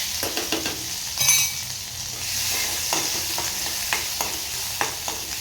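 A thick ginger, garlic and green chili paste sautés in hot oil for a Marathi fish curry, a steady close sizzle broken by repeated scraping stirs of a spoon against the pan.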